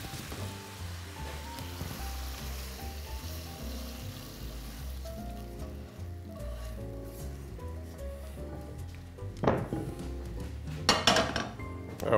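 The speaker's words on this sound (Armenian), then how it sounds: "Ավելացնում ենք մի քանի կաթիլ բուսայող և տապակում սմբուկը" Eggplant frying in a few drops of vegetable oil, a quiet, steady sizzle with a soft low hum, broken near the end by a few louder clatters and scrapes.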